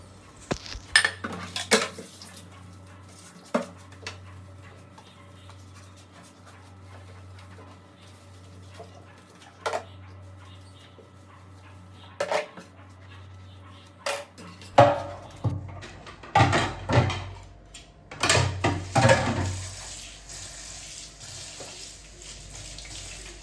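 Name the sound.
washing dishes and utensils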